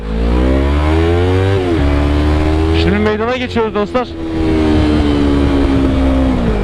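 A freshly washed motorcycle fitted with a header exhaust rides along, its engine holding a steady, loud droning tone throughout, with someone talking briefly over it in the middle.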